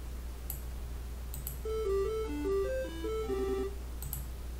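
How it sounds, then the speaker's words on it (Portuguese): A short 8-bit chiptune melody built in BeepBox, quick bleeping square-wave notes stepping up and down like a telephone ringtone, playing alone over a low hum with occasional soft clicks. "Parece um barulho de telefone."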